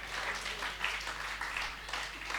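Audience at a Hindi poetry recital in Bhiwani applauding a poet, a soft, steady patter of clapping heard from a distance.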